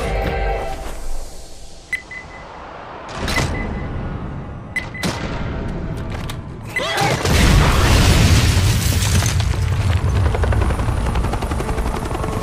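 A grenade blows up in Left 4 Dead: a few sharp cracks are followed by a heavy, loud explosion whose roar swells and lingers in a rumbling tail.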